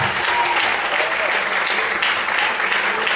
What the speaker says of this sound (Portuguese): Vamos poder aplaudir e exaltar a Deus de forte.